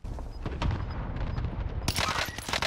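Rapid bursts of STG assault rifle fire in the video game Warzone, close and loud, with a heavier volley in the final second and no talk over it.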